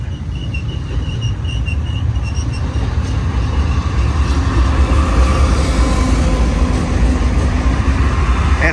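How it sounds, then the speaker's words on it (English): A long freight train of about 180 cars with BNSF locomotives rumbles past close by in a loud, steady, heavy roll of wheels and engine drone. "We got a double lash up here, a monster train."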